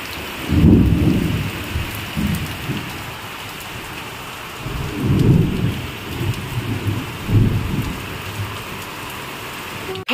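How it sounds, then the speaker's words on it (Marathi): Heavy rain pours steadily while deep thunder rumbles roll in three times, loud and close, with no voices. "जोरात गरगडात ढगाचा आणि पावसाला सुरुवात झाली"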